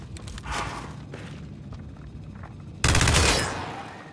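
Turret gunfire in the video game Gears 5, heard as scattered shots early on and then a loud, dense burst of rapid fire near the end that slowly tails off.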